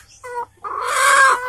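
Village chickens cluck nearby, a short clucking call followed by a louder, longer squawking cry, close and clear with no talk.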